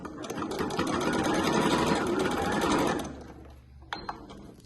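Sewing machine backstitching fabric for a clutch bag, a dense rapid stitching run for about three seconds, then stopping, with a few light mechanical clicks after.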